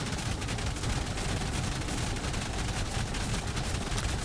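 Heavy and tech turrets in the ARK video game fire on a dinosaur in a dense, continuous barrage of rapid gunfire and impacts, steady and moderately loud throughout with no talking.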